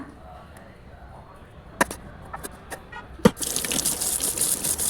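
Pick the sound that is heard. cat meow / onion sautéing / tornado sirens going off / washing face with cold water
washing face with cold water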